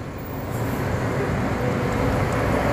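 A bus pulls into the Adiwerna petrol station before dawn, its steady engine rumble and broadband road noise droning continuously at close range with no pauses.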